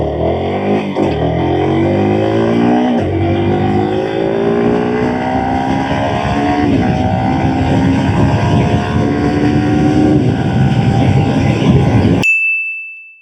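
Yamaha R15 V4 motorcycle accelerating hard from a standstill to 100 km/h in street riding mode, the engine note climbing steadily through several gear changes, loud and close for about twelve seconds before cutting off abruptly.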